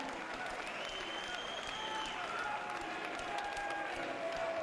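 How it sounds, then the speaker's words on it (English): A crowd at a featherweight title MMA fight applauds both fighters after five rounds, a steady wash of clapping from a distant audience. "a round of applause for both our warriors"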